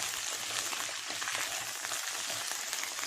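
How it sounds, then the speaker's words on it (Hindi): Okra sizzling and frying in a pan over high flame for masala bhindi, a steady dense crackle with fine popping throughout, close and continuous with no talk. "भिंडी डालने के बाद हाई फ्लेम पे भिंडी को अच्छे से फ्राई कर लें।"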